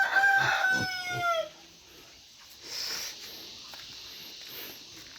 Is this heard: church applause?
no